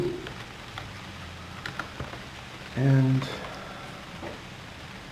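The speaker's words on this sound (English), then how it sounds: "started raining, so good thing we have our shelter" Rain falls in the survival video game UnReal World as a faint, steady hiss and patter throughout, with someone briefly saying a word partway through.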